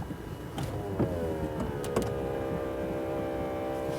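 A steady electric motor whirs as a McLaren 650S Spider's folding hardtop roof retracts, with occasional clicks and clunks of the mechanism, close by and continuous.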